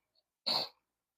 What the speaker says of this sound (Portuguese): um pigarrozinho.